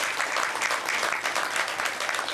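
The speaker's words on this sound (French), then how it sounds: "je vous demande de les applaudir très très fort" Loud, dense applause from a large audience at a decoration ceremony honouring recipients, a steady unbroken roar of many clapping hands that holds at full strength throughout.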